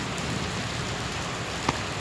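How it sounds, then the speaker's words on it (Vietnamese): Rain falls steadily outdoors, a dense even hiss of drops at moderate level with one faint brief knock near the end and no voices. "Trời đang mưa."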